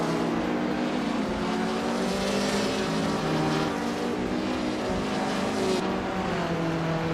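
Race car engines drone steadily in a racing game, including a 1973 Triumph Dolomite Sprint and a 1972 Alpine, a loud sustained roar with shifting pitch and no pauses.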